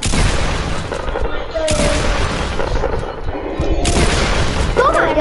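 Dense video game gunfire and booming blasts roll on without a break, loud and close, while excited players shout over the barrage.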